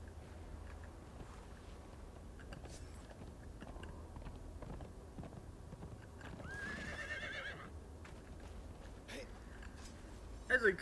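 Horse in Conan Exiles: Isle of Siptah clip-clops along with faint background game sounds, then gives one clear whinny midway, and sharp louder noises close the stretch.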